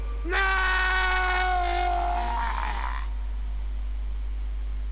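A prolonged, harmonically rich scream from a character in the adventure video game Loom, rising sharply then sustained for over two seconds before breaking into a rougher wail and cutting off, loud and close over a low steady hum.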